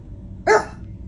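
A single sharp dog bark, close and loud, rising briefly out of a quiet room.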